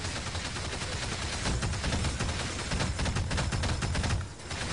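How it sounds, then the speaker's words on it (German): Dense, continuous gunfire in the video game Fuse, a loud, unbroken wash of rapid shots and blasts that keeps going throughout before easing slightly at the very end. "Also Jungs schießen da immer noch, ne?"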